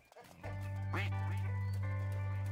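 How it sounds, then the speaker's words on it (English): Cartoonish duck quacks from the video game No Place Like Home, a short burst of loud quacking sitting over a steady, droning game background hum. "I love those ducks quack."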